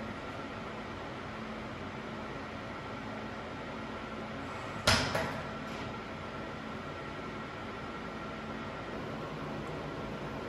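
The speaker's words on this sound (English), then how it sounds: "Now we open the door by pressing the button for 1 second." A 2Create 3D metal printer's door opens after its button is held for one second, giving a single sharp mechanical clunk and brief rattle midway, then fading back into a steady machine hum and fan noise.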